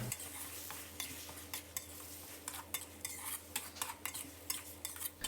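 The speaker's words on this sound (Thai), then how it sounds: "แล้วก็ผัดต่อจนมะเขือเทศของเราสุกเลยนะครับ" Tomatoes with a splash of water are stir-fried in a pan for Thai nam prik ong, a utensil scraping and tapping in quick irregular strokes over a low, steady sizzle.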